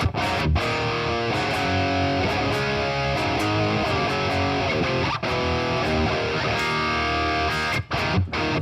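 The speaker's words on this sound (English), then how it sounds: "This is a Seymour Duncan Invader, the big, ballsy, beefy Alnico magnets in there, and it is a very strong sounding pickup for rock" An electric guitar with a Seymour Duncan Invader pickup, whose Alnico magnets are mentioned, plays through a Polychrome DSP amp sim. It gives a loud, continuous, heavily distorted rock tone with thick sustained chords and no talking.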